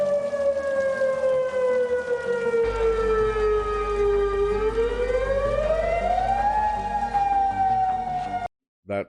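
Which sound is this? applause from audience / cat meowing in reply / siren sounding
siren sounding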